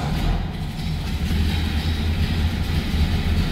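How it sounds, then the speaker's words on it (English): A 1936 Ford five-window coupe's flathead engine runs indoors in neutral after starting, a loud, steady low rumble and idle throughout. "That's how easily and how nicely that flathead fires up."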